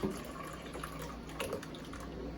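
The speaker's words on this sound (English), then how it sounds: "Pour back some in the blender." Cucumber juice pouring and splashing into a blender, with a few drips and small clinks, steady and close by.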